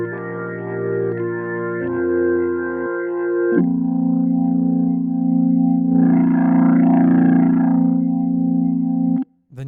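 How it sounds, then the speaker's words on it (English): Acoustic Samples B-5 Hammond-style organ played with tube distortion, sustained chords carrying a gritty overdriven breakup and swirling harmonics, loud and continuous for about nine seconds before cutting off abruptly. "your tube distortion, so it gives you that breakup sound"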